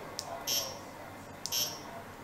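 Two short, high-pitched electronic beeps about a second apart, each with a faint click before it, quiet against a soft background.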